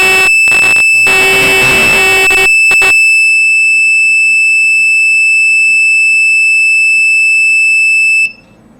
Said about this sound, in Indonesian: buzzer berbunyi.